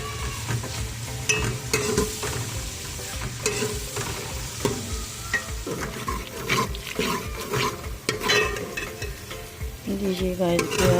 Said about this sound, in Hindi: अब हम प्याज को अच्छे से लाइट ब्राउन करेंगे।